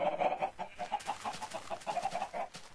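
Chickens in the video game Minecraft clucking in quick, rhythmic bursts, a steady string of short calls at fairly low volume with no talk over them.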